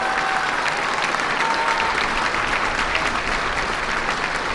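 An audience at an outdoor public welfare-program event in Panotla, Tlaxcala, applauds steadily, a dense continuous clatter of many hands heard alone, with no voices over it.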